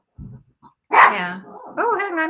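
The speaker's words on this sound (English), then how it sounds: "So if you hear barking in the background, it's one of my pups." A pet dog barks and whines in the background, a short yelp followed by a louder bark and a drawn-out whimpering whine, while a person speaks briefly.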